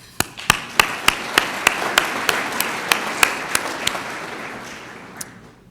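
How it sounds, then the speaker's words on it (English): Sparse, evenly spaced claps ring out at a city State of the City address, a thin scattering of hands slapping in a slow rhythm that thins out after a few seconds. "let's clap for Metrofy"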